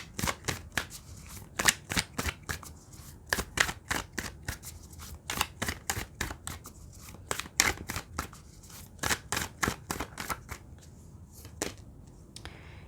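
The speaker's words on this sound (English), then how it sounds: "Let's get 3 cards for you." Tarot cards being shuffled by hand, a rapid series of crisp riffling flicks and slaps repeating steadily throughout, close and clear with no talking.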